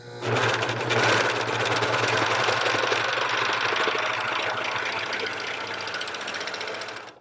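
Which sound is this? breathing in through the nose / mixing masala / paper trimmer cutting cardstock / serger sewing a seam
serger sewing a seam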